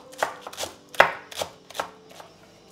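A knife chops finely sliced green onion on a board in about seven sharp, irregular strikes, close and clear, with no talking.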